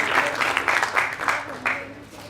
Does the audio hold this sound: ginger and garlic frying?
no